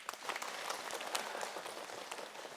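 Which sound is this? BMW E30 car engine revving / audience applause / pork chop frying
audience applause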